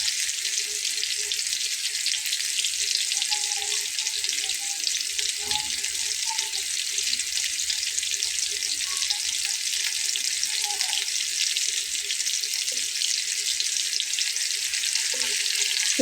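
Hilsa fish coated in ground spice paste fries in hot oil with a steady, dense sizzle that runs the whole time, and faint scrapes and pops sit on top of it.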